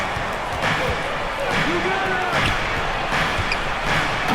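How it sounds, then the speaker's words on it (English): Basketball slam dunk in the NBA 2K25 video game, heard within a constant roar of arena crowd noise with thumps and scattered squeaks, as a commentator talks over it. "And Ewing slams it in"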